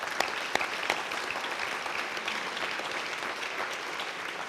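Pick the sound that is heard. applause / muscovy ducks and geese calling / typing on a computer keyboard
applause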